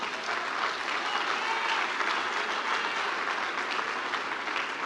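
A church congregation applauds in a steady, dense wash of clapping that holds at an even level throughout, sounding somewhat distant and continuous with no break.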